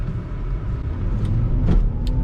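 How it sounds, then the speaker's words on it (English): A Volvo S60 T6 on premium fuel pulls hard from a standstill toward 75 mph, its engine rumbling loud and close with a steady rising drone. "I just did 0 to 75, as you saw just there."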